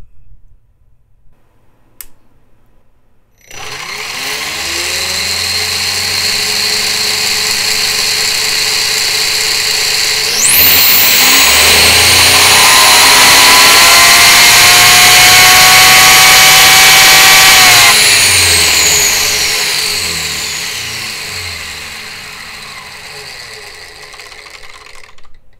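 An RC brushless chassis on a dyno making a single pull: a steady electric whine and motor drone that builds, climbs into a louder high-pitched sweep mid-run, then winds down, close and without talk.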